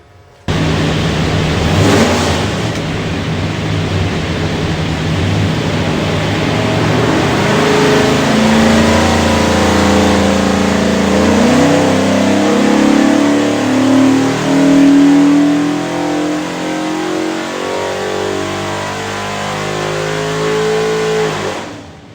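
A 347ci small block Ford V8 with a Dyno distributor and carburetor, run on an engine dyno for an '88 Mustang, roars steadily under load and sweeps upward in pitch through a sustained pull, loud and close with no talk.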